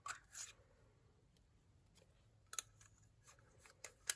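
Crisp snips of cardstock being cut to size for a handmade card, a short pair at the start and a few sharp cuts later, quiet and close with no talking.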